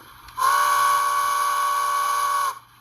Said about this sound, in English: Function 2 plays the long whistle.